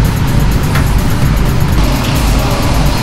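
A steady, loud roar of go-kart engines running at a go-kart track at Speedy's, continuous with no breaks and no talking.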